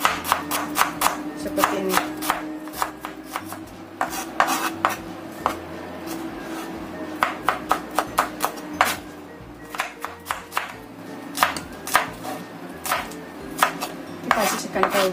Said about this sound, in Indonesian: Ini juga kita chop-chop ya, biar hasilnya itu juga halus